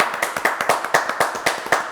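An audience claps for a singer before her song at a French variety show, a close, irregular patter of many hands with no talk over it.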